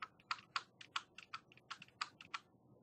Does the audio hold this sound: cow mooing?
no